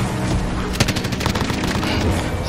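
Continuous machine-gun fire aimed at a zombie in the Call of Duty Warzone video game: a steady, loud stream of rapid shots running for a couple of seconds, with heavy crackling throughout.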